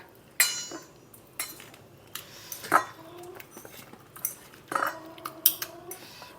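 Canned fish salad stirred in a bowl with a spoon, sparse clinks and scrapes of utensil against the dish at irregular intervals, fairly close and quiet.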